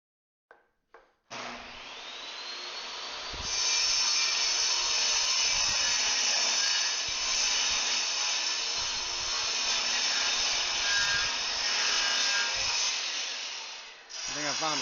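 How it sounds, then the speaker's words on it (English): A table saw rips a board along the fence, its motor spinning up to a loud, steady whine that holds for about ten seconds before winding down. A few short knocks come just before the cut starts. "We're just going to run a nice loose fence cut."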